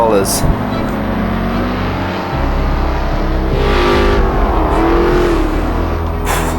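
The Ford GT40 race car that Ken Miles drove at the 1966 Le Mans 24 Hours drones loudly and steadily as it is driven, with the engine pitch rising and shifting. Someone talks over the engine.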